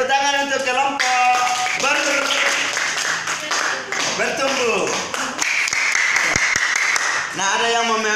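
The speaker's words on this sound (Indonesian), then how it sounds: "tepuk tangan untuk kelompok" A class claps for a student group during a practice teaching lesson at IAKN Ambon, with scattered hand claps mixed into steady talking and voices throughout.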